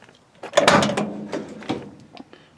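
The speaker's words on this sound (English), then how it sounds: "Door shuts good." The door of a 1963 Chevy C10 pickup, newly fitted with window felt and rubber seals, shuts with one solid thud and a short metallic rattle, heard close up and alone.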